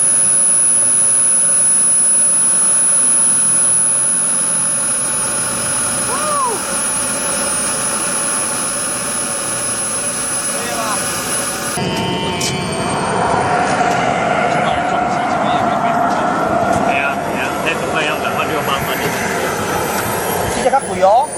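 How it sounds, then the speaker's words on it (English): Model jet turbine engine running on a foam jet, a steady loud whine with broadband roar and a high tonal whistle that shifts midway, close and continuous throughout. "You can hear the motor is running."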